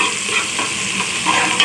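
Chopped ingredients for aloo tahari fry in a pan, a loud close and steady sizzle with soft bubbling crackle, brief and unbroken, no voices.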